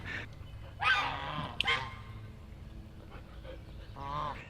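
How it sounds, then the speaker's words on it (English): Geese sitting in a driveway give a few honks and squawks, the loudest bursts early and another near the end, set against a steady low rumble outdoors. "listen to the geese. The geese are, hopefully they'll stay quiet. They're in the driveway behind you."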